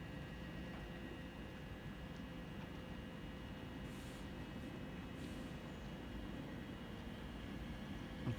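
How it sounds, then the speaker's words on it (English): A faint, distant rumble and clatter of a fast train approaching on the line at Shenfield, low and steady against quiet outdoor background, growing slightly at the very end. "I can hear some clattering in the distance, which possibly means there's going to be a fast train coming through"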